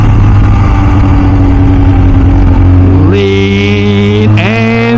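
An MV Agusta F4 Senna motorcycle engine roars loudly up close, holding a steady drone before the revs climb sharply twice as the rider gets back on the throttle out of a lean.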